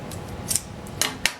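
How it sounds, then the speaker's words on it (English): Scissors snip the tag end off a freshly tied fishing knot for terminal tackle, three or four quick, crisp cuts spaced apart, close and fairly quiet against a soft background. "all I need to do is trim this tag end off"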